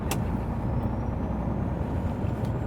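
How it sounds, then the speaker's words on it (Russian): A Renault Magnum truck, a pre-Euro-6 engine pulling a load, runs with a steady drone inside the cab while a thin, faint turbocharger whistle rises slowly above the engine noise. "Я думаю, будет слышно все-таки у вас микрофон, как свистит турбинка."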